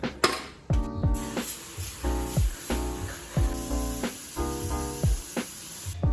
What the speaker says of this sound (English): I'm gonna go soak that in some parts cleaner